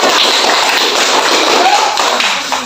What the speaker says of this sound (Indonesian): Ayo beri aplaus untuk kelompok saya.